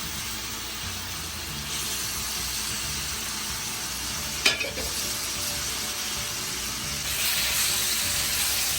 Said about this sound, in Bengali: এখন এগুলোকে ভালো করে নেড়ে চেড়ে মিশিয়ে নেবে